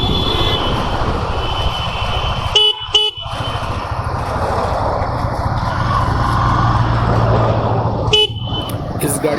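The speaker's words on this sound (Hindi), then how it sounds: "हॉर्न का प्लेसमेंट थोड़ा सा ऊपर दिया हुआ है" A Honda CB300-series motorcycle horn gives short toots, a pair near the start and another later, over a steady loud wash of traffic and engine noise.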